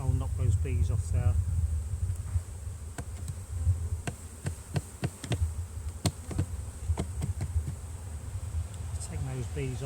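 A swarm of bees buzzes steadily and up close around a beehive starter strip, a dense continuous drone with scattered sharp clicks and knocks and a few brief voice fragments.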